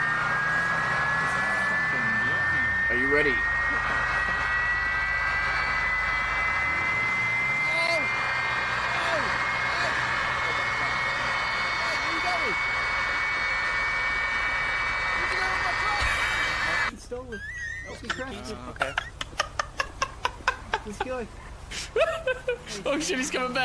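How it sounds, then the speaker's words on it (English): A jet engine in the game GTA roars with a steady rising whine, giving way partway through to sharp rattling bursts, while people talk over it. "Trust me, the jet engine is so powerful."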